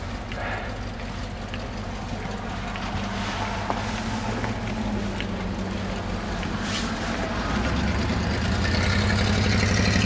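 A vehicle engine with its exhaust hanging off rumbles steadily in a snowstorm, a low, rough drone that grows louder toward the end, mixed with wind noise.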